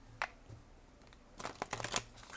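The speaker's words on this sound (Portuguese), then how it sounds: "Esse oráculo é duro para embaralhar." Oracle cards being shuffled by hand, soft close riffling and flicking in short clustered bursts, quiet and without talk.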